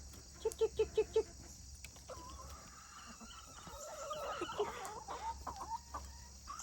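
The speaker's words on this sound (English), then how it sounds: "Tori's a speckled Sussex, and she is losing her feathers" Speckled Sussex hens cluck in a quick burst of five near calls, then softer murmuring clucks and chatter continue over a steady background of insect buzz while they peck at sourdough pancake scraps on the ground.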